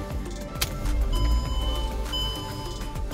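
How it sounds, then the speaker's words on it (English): A 2009 Mercedes-Benz E350 of the W211 generation starts up close by, its engine catching into a low, steady rumble that swells and settles into an even idle for a few seconds. "Starting up the car."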